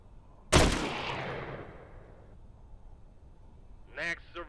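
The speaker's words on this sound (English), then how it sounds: "So I have to shoot her." A single loud gunshot from the video game Quarantine Zone cracks at close range and rings out in a long decaying tail, followed a few seconds later by a short burst of speech.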